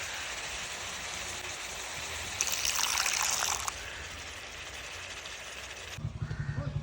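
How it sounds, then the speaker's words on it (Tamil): Water trickles and splashes steadily into a pot of frying mutton, with a brief louder pouring burst in the middle and some clattering near the end. "ஒரு ஒரு டம்ளர் தண்ணி ஊற்றுப்பா"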